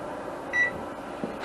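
A single short electronic beep from a kitchen timer being set rings out over a low background hum, followed by a faint click, while brine simmers.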